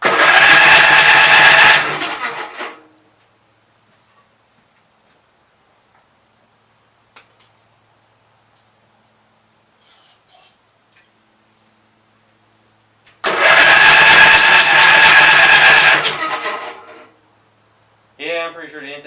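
Gravely Pro 12 walk-behind tractor engine with a stuck intake valve firing back through the intake: two loud bursts of running a few seconds each, separated by a long quiet stretch with faint clicks, and a voice at the end.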